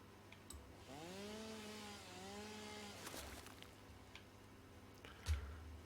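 A chainsaw cutting a tree in the video game Satisfactory, its engine whining in a steady rising and falling pitch for a couple of seconds, followed by scattered knocks and clicks at low volume.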